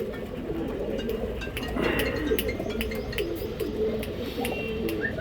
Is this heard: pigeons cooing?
yes